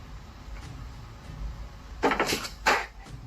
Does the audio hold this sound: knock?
yes